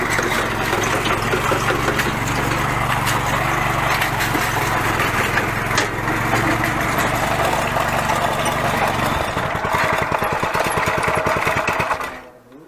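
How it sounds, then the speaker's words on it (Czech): A small engine runs steadily at close range with a rough, rattling drone, smoking and with a wheel fallen off, shifting to a faster chugging rhythm near the end before dying away. "Kolečko si se upadlo, ale motor pořád běží."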